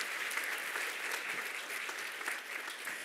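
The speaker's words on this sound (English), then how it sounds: "So let's give a big round of applause for our panelists" Continuous applause from a conference audience for a panel at a tech event, even and sustained clapping heard at moderate distance with no talk over it.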